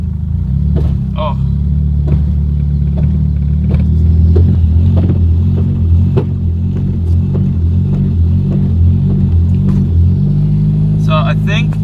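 A car running in gear with a faulty transmission, axle or differential makes a loud, rhythmic low droning rumble with regular pulsing knocks, and a few brief clanks toward the end.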